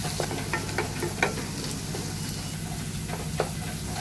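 Ginger garlic paste fries in hot oil in a pan for a pepper chicken dish, giving a close, continuous sizzle with small crackles and pops and no talking.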